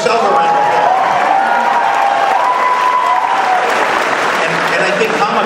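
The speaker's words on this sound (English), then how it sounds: "give yourself a round of applause" A large convention crowd at WonderCon applauds in a steady, loud wash of clapping, with a faint tonal whistle or cheer drifting above it and voices mixed in.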